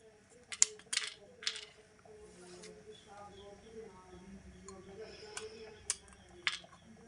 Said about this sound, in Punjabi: ਬਦਾਮਾਂ ਨੂੰ ਆਪਾਂ ਕੱਟ ਲੈਨੇ ਆ